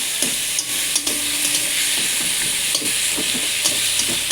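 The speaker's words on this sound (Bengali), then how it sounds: "এখানে ভাত বসিয়ে দিচ্ছি। ভালো করে কষায় নিতে হবে।" Cooked rice stir-fries in a pan with onion, garlic and ginger paste, giving a steady loud sizzle broken by repeated scraping stirs of a spatula.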